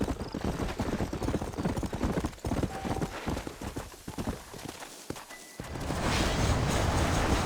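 Horse hooves clip-clop at a steady walking pace in the Western video game Red Dead Redemption, close and continuous, with a brief whinny and ambient outdoor noise.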